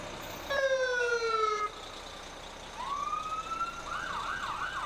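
A fire engine siren from the Vernon Fire Department's engine number 2 wails during a winter carnival parade: a falling electronic tone, a pause, then a rising wail into rapid yelping warbles, moderately loud and nearby.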